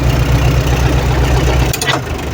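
YuMZ tractor engine idles with a low, close rumble, then drops abruptly as the throttle is eased back, leaving a lighter running sound.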